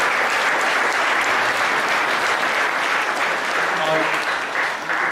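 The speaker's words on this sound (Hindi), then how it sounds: "हम एक बार जोरदार तालियां" Audience at a religious gathering in Toronto breaking into loud, sustained applause, dense clapping throughout with a voice briefly heard over it.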